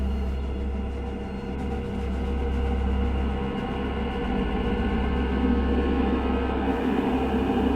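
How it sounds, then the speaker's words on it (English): An engine pulling its train of cars runs downhill with a continuous low, heavy rumble and a faint metallic whine, steady and fairly close, with no voices. "an engine with its train was heading downhill."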